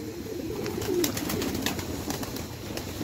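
Pigeons coo softly in low, murmuring bursts over a constant background hum, several birds nearby.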